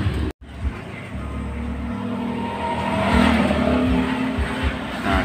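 A Yamaha Mio J scooter engine with weak, sluggish pull revs up close by, a buzzing, rising engine note after a brief dropout, with no talking.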